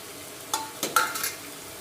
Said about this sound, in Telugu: ఇవన్నింటినీ ఈ మరుగుతున్న ఆయిల్ వాటర్లో వేయాలి